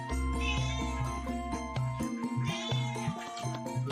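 A cat meows several times, drawn-out calls over a steady tonal background, fairly clear and close.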